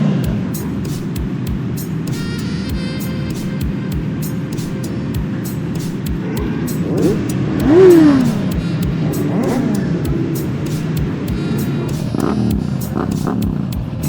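A Yamaha MT-07 motorcycle engine revs once, a brief swelling roar midway, among idling bikes waiting to board a boat on a sunny day. Voices talk over a steady background of engine noise.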